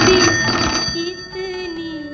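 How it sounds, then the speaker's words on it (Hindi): A telephone rings in a Hindi radio play, its bright electronic trill sounding loud and close, repeating steadily for about two seconds with no voices over it. "फोन है। किसका फोन है?"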